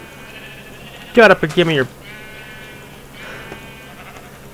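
A Minecraft sheep gives a wavering, close bleat in a short burst, followed by fainter bleats, while someone talks over the game.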